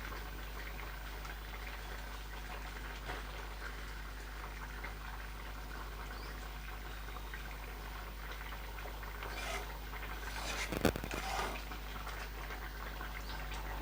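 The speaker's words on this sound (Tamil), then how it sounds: "லேசாக திருப்பி விட்டுட்டு மறுபடியும் கொதிக்கணும்" A steady low bubbling simmer of lentil dumpling curry (paruppu urundai kulambu) in a pot, fairly quiet and constant, with a brief clatter near the end.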